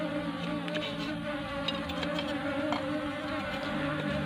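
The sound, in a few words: bees buzzing around a bee-keeping box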